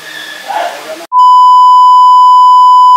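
A voice talks briefly, then a loud, steady electronic beep holds on one pitch for about two seconds.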